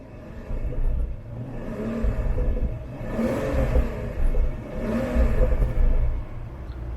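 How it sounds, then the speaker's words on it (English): A BMW 760Li N74 V12 exhaust rumbles and revs in comfort mode with its flaps closed, a few slow, muffled swells, steady and fairly close, with no one speaking. "this is what it sounds like in comfort, where the flaps are closed inside."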